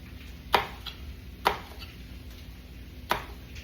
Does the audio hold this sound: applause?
no